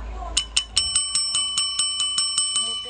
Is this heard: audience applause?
no